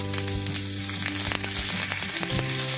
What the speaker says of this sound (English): Bring the mixture to boil until the sugar dissolves